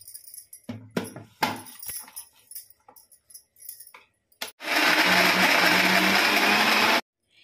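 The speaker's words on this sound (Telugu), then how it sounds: "ఇప్పుడు దీన్ని అంతా మిక్సీ పట్టుకుందాం." A mixie grinder blends a gongura chutney mixture with fried white lentils, a loud steady whirring roar lasting a couple of seconds after some clattering and knocking of the jar, then cutting off abruptly.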